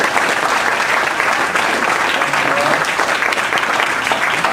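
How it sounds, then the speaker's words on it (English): An audience at a talk breaks into a big round of applause for the speaker, dense continuous clapping from a sizable crowd that holds steady and loud throughout. "Let's give Ross one big round of applause."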